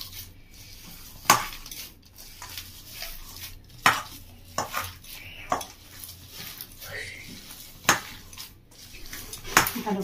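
Breadcrumbs are spooned into a bowl and mixed, with sharp metallic spoon clinks against the bowl at irregular intervals over a soft background.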